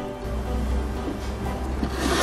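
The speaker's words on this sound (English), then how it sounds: "The lacquer is mixed with hemp and ramey and coated carefully over the wood." Lacquer mixed with hemp is rubbed over a wooden piece for mother-of-pearl inlay work, producing a continuous close scraping and rubbing texture with slight swells in intensity.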